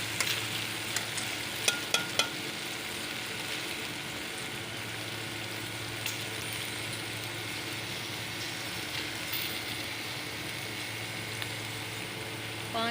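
A kilogram of cut okra (bhindi) fries in oil with a dense, steady sizzle that runs unbroken and close, punctuated early by a few sharp clicks of a utensil against the pan.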